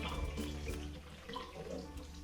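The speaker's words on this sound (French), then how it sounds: "c'est juste l'eau chaude qui coule directement du robinet. J'en mets suffisamment pour couvrir tout mon papier comme s'il était dans un bain." Hot tap water runs and pours over sheets of paper in a basin to soak them for homemade recycled paper, making a steady, soft splashing that stays continuous throughout.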